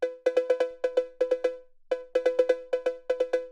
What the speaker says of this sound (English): I have this cowbell that sounds like this.